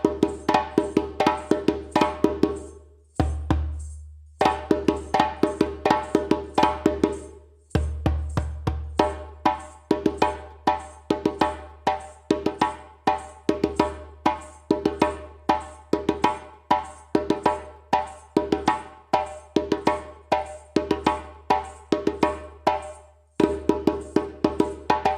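A solo djembe plays a steady accompaniment rhythm, a dense train of sharp slaps and tones punctuated by occasional booming bass strokes, loud and close with no voices.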